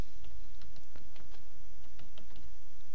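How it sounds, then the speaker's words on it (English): Fingers typing a message on a computer keyboard, a steady patter of close, crisp key clicks with no talk. "I can simply type in a message and literally send this to the group"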